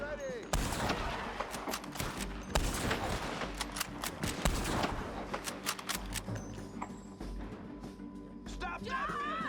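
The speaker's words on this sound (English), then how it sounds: "Where are them shots coming from?" Repeated gunfire in Red Dead Redemption 2, sharp shots scattered across a busy game battle scene, loud and close with shouting voices mixed in.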